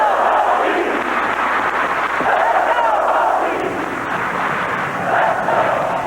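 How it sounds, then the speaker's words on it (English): Virginia Tech crowd at a memorial ceremony chanting the school cheer, a loud, sustained mass of voices rising and falling in waves across the whole stretch, heard from amid the crowd. "it was that school cheer that really grabbed a hold of people's emotions, coming as it did at the end of today's ceremony"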